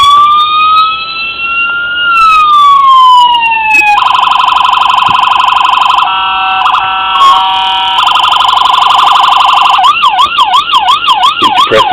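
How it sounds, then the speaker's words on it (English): A toy siren on a 1:24 scale Dodge Charger police diecast model cycles through several electronic tones, moving from a slow rising and falling wail to steady alternating beeps and then a fast warbling yelp, loud and close with no talking. "Hit the siren once, it's going to go through the different tones."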